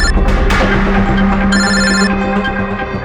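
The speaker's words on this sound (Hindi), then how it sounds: "कभी भी फोन आ सकता है उन लोगों का।" A telephone rings loudly and close in a police office, a continuous electronic trilling ring with pulsing bursts that carries on without a break, with no voices over it.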